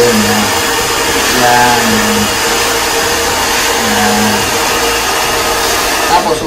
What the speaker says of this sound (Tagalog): Saan mo siya papupuntayin yung buhok mo, dapat doon mo rin papunta yung blower mo.